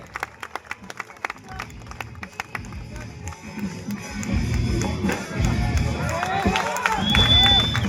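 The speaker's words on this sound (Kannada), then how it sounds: "ಸ್ಟಂಟ್ಗಳಿಗೆ ಜೋರಾದ ಚಪ್ಪಾಳೆ ಅವನಿಗೆ" A crowd applauds a stunt performer at a sports training event, with scattered claps at first building into sustained clapping and cheering, and a voice calling out over it.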